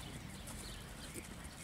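A horse of about 480 to 500 kilos moves at a faint distance, its hooves clip-clopping softly against steady background noise.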